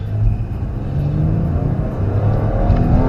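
A loud, close engine drone from a 2015 Kia Sorento SUV on a track, climbing steadily in pitch as it accelerates, with a deep rumble underneath and no talk.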